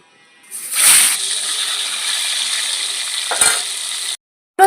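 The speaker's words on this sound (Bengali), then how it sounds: "বাকি মাছগুলো আমি ভেজে নিচ্ছি" The remaining magur catfish pieces frying in hot oil, a loud close sizzle that bursts up as they go into the pan, then holds steady with another surge near the end before cutting off.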